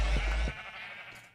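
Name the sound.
sheep bleating in Minecraft video game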